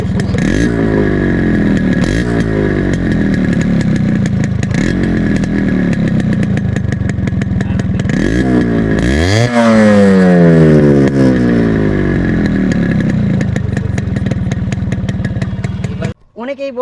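Thirty-year-old Yamaha RX100 two-stroke motorcycle engine revving up and down repeatedly, loud and close, with rising and falling pitch sweeps and a strong blip near the middle before cutting off at the end.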